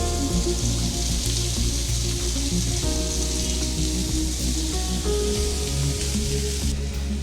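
Onion sautéing in a pan for a Kerala beef dish, giving a steady, close sizzle with crackly frying texture that holds continuously throughout, while tonal music plays underneath.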